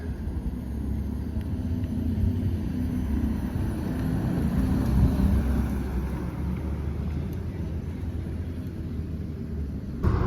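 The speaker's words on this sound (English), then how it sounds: "The all-electric Lotus Evija rolling out." All-electric Lotus Evija hypercar rolling out at a car week event, a low steady rumble with wind buffeting the microphone throughout, no talking.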